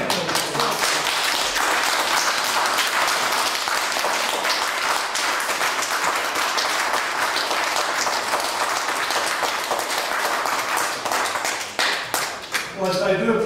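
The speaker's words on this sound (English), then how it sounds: "in clapping you're taking up the precious time" Sustained applause from an audience at a local council meeting fills the room, dense and loud, tapering toward the end as a voice begins to speak.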